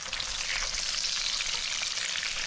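Battered fish fillets deep-fry in hot oil in a pan, giving a loud, steady, dense sizzle and crackle with no talk.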